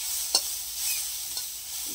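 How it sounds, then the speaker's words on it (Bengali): Water spinach greens being stirred and fried in a pan, a steady faint sizzle with a couple of brief scraping stirs of the spatula, close and with no talk. "এবার আমি শাকটাকে এইভাবে নাড়তে থাকবো।"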